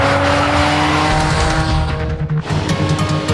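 A new Jaguar SUV, fresh off the assembly line, roars loudly and steadily as it is driven off, its engine note holding strong before a brief dip and a sharp tire screech near the end, with no talking.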